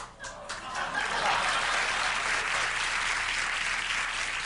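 Studio audience applause on a 1990 late-night comedy show, a steady wash of many hands clapping that holds at full strength for several seconds with no voices over it.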